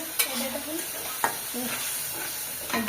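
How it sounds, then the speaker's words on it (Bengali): Spice paste being stir-fried with bottle gourd and potato in a pan hisses steadily while a spatula scrapes across the pan in a few sharp, repeated strokes, up close and without speech. "এই যে লাউ দিয়ে আলু দিয়ে কষাই নিচ্ছি"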